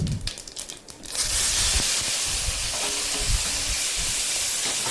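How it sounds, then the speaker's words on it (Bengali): Chopped onion and tomato dropped into hot oil seasoned with cumin and bay leaf, a brief clatter then a loud, steady hiss of frying close by that continues without voices. "পেঁয়াজ আর টমেটোটা খানিকক্ষণ একটু ভাজা ভাজা করে নেব"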